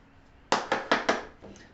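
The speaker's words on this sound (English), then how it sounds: "let's go ahead and shuffle." Tarot cards being shuffled by hand, close up: four quick, crisp papery bursts in a steady rhythm, then a softer fifth rustle, with no talking.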